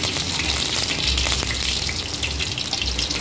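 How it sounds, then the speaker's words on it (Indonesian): Blended spice paste sizzles and fries steadily in a hot pan, a dense continuous crackle close up with no talking over it. "Aku sekarang mau numis bumbu yang udah aku blender"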